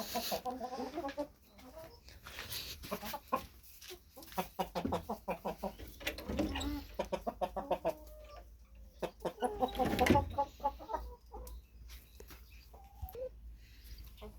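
Chickens cluck repeatedly in short rhythmic bursts, close by, with occasional louder squawks among the flock and a brief human voice in the background.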